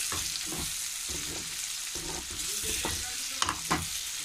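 Eggs fry slowly in a pan under a steady hiss of oil, with repeated soft scraping and tapping from a spatula turning them, and a couple of sharper knocks near the end.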